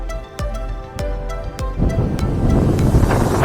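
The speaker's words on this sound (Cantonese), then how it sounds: "呢一度真係大風到企唔穩㗎" Strong, cold wind roars and buffets the microphone beside a small river, growing stronger and more turbulent, with a few sharp knocks early on.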